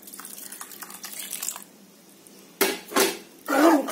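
Water poured into a pot of spinach keerai kadayal and stirred, giving a few short splashy, scraping bursts of metal and liquid after a quieter stretch of low kitchen noise.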